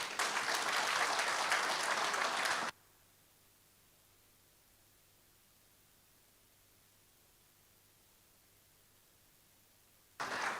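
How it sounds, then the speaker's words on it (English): An audience applauds after a public lecture with dense, steady clapping from many hands for about three seconds. A long near-silent gap follows, and the clapping starts again briefly at the very end. "I don't think this applause is enough."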